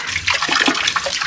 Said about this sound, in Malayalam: എന്നിട്ട് നമ്മൾ ടാപ്പ് ഓൺ ചെയ്യുക. ഇതിനകത്ത് വെള്ളം വരുന്നുണ്ട് കേട്ടോ.